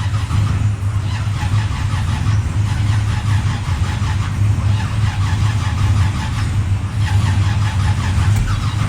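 Race car engine being cranked to start after sitting a long time, a steady loud rapid churning from the starter turning the engine over for several seconds without catching, close by.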